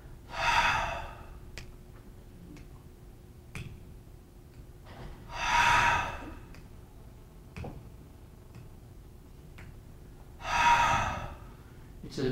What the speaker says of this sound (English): It's at about that pace that you do the rescue breathing.